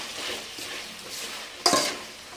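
Vegetables with mint, coriander and salt stirred in a pan for vegetable biryani, a soft sizzling hiss with one sharp scrape of the spoon near the end.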